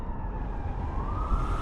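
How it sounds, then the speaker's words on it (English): A Glasgow police siren wails in the distance, its tone sliding slowly upward through a steady bed of wind and street rumble, faint and continuous with no voices. "Wouldn't be Glasgow without a police siren in the background."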